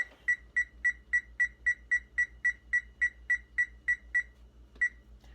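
Oven control panel chirping as the bake timer is set, a steady run of fifteen evenly spaced, sharp electronic beeps over a low hum, then a pause and one final beep.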